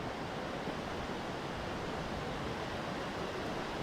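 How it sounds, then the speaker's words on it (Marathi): Heavy monsoon rain in the Konkan countryside gives a steady, dense, unbroken roar of broadband hiss throughout, fairly close, with no voices. "हा बघा आला पाऊस आला."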